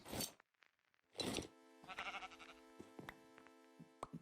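Sheep bleating in the Minecraft video game, two short broadband bleats standing out near and clear over a sustained musical background.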